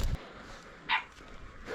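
A single short, faint yip from a puppy, one of several at a village rubbish dump, rises briefly over a quiet outdoor background.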